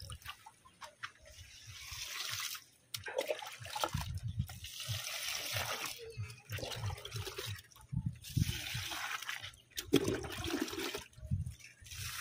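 Water trickles and splashes from a tap as hands are washed during garden work planting calamansi in cement boxes, running in bursts with short gaps, moderately close.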